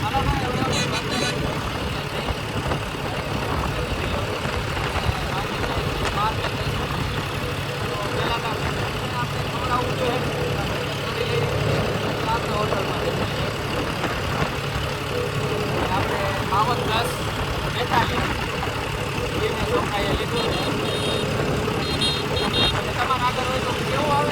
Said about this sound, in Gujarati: ફાઇનલી ભાઈ આપણે ટ્રેક્ટર લઈ અને નીકળી ગયા છે ઘર તરફ.